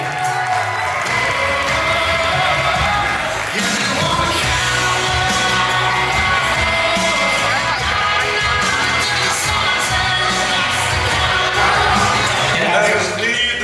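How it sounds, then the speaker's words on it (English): Wedding guests at an elegant reception at The Ellis in Columbus, Ohio, applaud and cheer the newlyweds and bridal party, a dense, loud, sustained wash of clapping, whoops and yells with music mixed in throughout. "let's give a big round of applause to the newlyweds and the entire bridal party."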